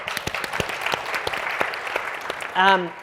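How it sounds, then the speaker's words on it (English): A crowd at a political fundraising gala applauds, its claps steady and dense throughout, with a voice breaking in near the end. "I want you to applaud one more time for yourselves"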